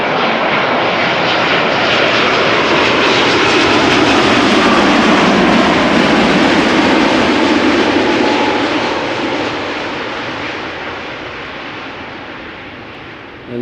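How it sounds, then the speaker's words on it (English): A KLM airliner, three years old and registered PH-BKI, approaches Schiphol Airport at the end of a flight from New York to Amsterdam. Its loud, sustained engine roar swells as it passes and then slowly fades, with no voices. "KLM Flight 644 in the meantime has gotten closer."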